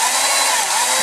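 A loud, high-pitched power tool whines steadily for a moment, close and continuous, like a drill spinning at full speed.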